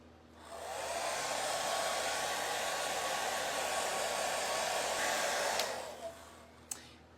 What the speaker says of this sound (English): I've just got my hair dryer out here tonight.